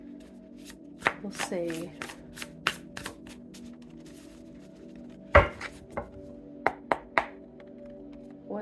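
A deck of tarot cards is shuffled by hand in a quiet room, giving scattered crisp taps and snaps plus a short riffling flutter, with a brief spoken remark.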